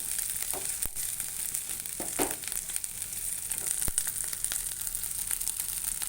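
Ginger and garlic sizzle steadily in a hot pan for chicken curry, a constant bright hiss broken by a few soft scrapes and knocks as a spoon stirs.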